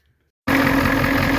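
A 1989 Ford F-350 engine starts up abruptly after a brief silence and then runs at a steady, loud idle, with a constant low rumble and no voices.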